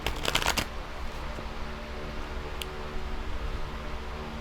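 Oracle cards being shuffled for a reading, a quick close riffle of rapid papery flicks at the start, then a quiet hiss with a faint tick or two.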